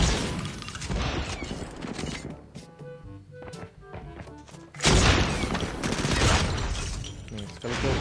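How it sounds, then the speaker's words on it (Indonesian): Gunfire from a shooter video game booms in heavy repeated blasts with thuds and mechanical clanks, fading briefly in the middle before a loud burst returns, with voices talking throughout. "Nih, sekali kill pakai sniper."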